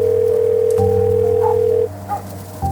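A telephone rings on a call, heard as one steady electronic tone lasting about two seconds that then cuts off, leaving quiet room sound.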